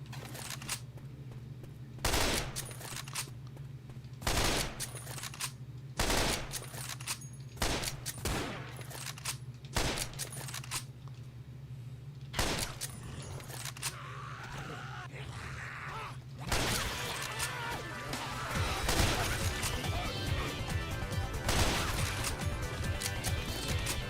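A SCAR rifle fires in the video game Left 4 Dead 2. Loud, close bursts of gunfire come in separated volleys, and a denser, continuous stretch of shots and clatter follows near the end.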